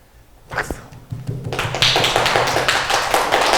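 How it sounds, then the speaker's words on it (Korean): An audience at a Buddhist lecture on the first sermon breaks into clapping, a few scattered claps first and then a dense, lively burst of many hands close by that holds steady to the end. "박수."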